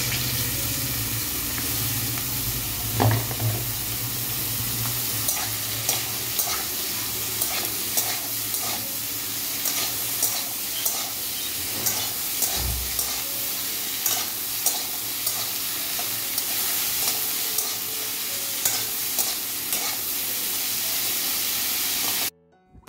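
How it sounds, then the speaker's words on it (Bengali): Nigella seeds, asafoetida, grated ginger and green chillies crackling in hot oil, a loud, continuous close sizzle with regular stirring scrapes and a couple of heavier clanks, no talking. "এবার এই তেলটার মধ্যে দিয়ে দেবো একটু কালো জিরে, একটু হিং, কাঁচা লঙ্কা"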